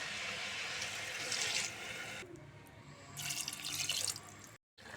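Water poured into a pot for cooking veg biryani, two quiet bursts of splashing liquid separated by a short pause, close and soft.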